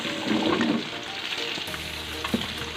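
Squash and tomato go into a hot cooking pot of dinengdeng seasoned with bagoong, setting off a steady, close sizzle with stirring scrapes that runs throughout without talk.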